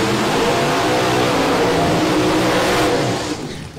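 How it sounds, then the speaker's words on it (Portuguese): A Camaro V8 Blower drag racing engine roars continuously and loudly at a drag strip, a sustained dense bellow that fades toward the end. "som e a fúria de Myron César do Camaro V8 Blower"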